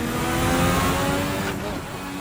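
Turbocharged 1986 RSS Formula One car engine, 1,200 hp, at full speed past 300 km/h, a loud continuous high-pitched roar that holds steady throughout, dipping slightly near the end.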